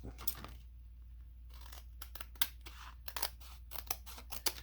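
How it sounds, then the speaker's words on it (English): Scissors cutting around a chipboard index box cover, a series of sharp snipping crunches, irregular and close, over a steady low background hum. "we're just going to cut around it"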